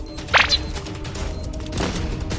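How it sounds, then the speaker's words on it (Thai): A burst of gunfire rings out in the video game Free Fire, a sharp shot near the start followed by a fainter report amid steady background game noise. "ด้านบนยิงกันอีกนะครับทุกคน"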